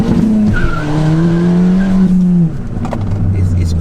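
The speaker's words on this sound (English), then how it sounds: "I love pops and bangs, I love crackles" A Stage 2 tuned Ford Fiesta ST revs, and its engine drone gives way to sharp exhaust pops and crackles near the end. It is heard loud and close from inside the car, with a person talking over it.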